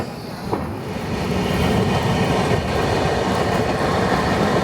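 Garib Rath Express train running on rails in dense fog, a steady loud rumble of wheels and carriages that builds after the first second and holds alone with no speech.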